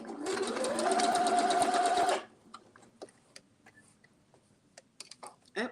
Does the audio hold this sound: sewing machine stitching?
yes